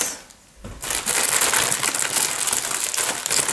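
Close crinkling and crunching of stiff plastic toilet paper packaging being handled and cut with scissors, starting after a brief quiet moment and continuing steadily.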